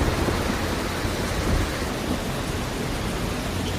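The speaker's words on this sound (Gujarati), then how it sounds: "જામનગરના જામજોધપુરમાં પણ ધોધમાર વરસાદના અહેવાલ છે" Heavy downpour over Jamjodhpur in Jamnagar district, a dense, steady roar of rain with no break and no voices, close and loud throughout.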